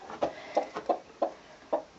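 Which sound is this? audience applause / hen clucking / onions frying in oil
hen clucking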